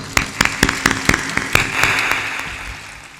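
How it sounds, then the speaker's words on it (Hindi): An audience at a religious gathering claps hands together in a steady rhythmic beat, roughly four claps per second, fading out toward the end, moderately near in a reverberant hall. "ताली बजा दो।"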